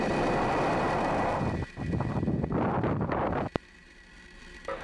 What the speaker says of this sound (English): Engine full power. And liftoff of Starlink 3-5.